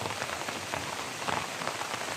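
Steady rain patters on a surface, a dense even hiss of drops with no voices, close and continuous throughout.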